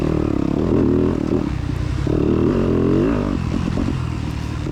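A four-stroke electric-start dirt bike races through a cross-country course and hits a ditch, its engine loud and close with rising and falling revs and a rough, throaty growl, alongside some clattering from the ride.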